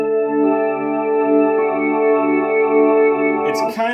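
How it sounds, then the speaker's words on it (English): A sustained, gritty overdrive organ chord held steadily on a Casio keyboard, its tone slightly distorted and swirling, ending with a brief clatter as it cuts off. "One last organ tone that I like to use is called the overdrive organ."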